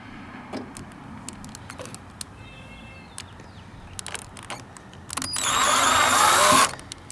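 A power drill drives a Jeep Wrangler lug nut brake light into place in one short, loud whirring burst near the end, after a few light clicks and handling noises.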